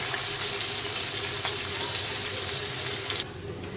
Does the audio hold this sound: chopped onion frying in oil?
yes